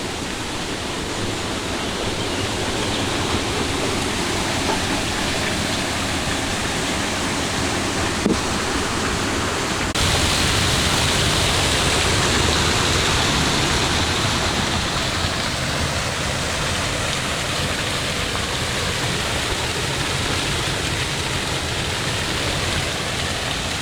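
A waterfall along a walk near an old railway line in the Lincolnshire Wolds sends up a constant broad rush of falling water, steady and close for the whole stretch with no voices.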